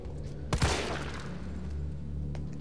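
Two quick close gunshots from the Resident Evil 3 Remake demo, a sharp double report followed by a low lingering game ambience without speech.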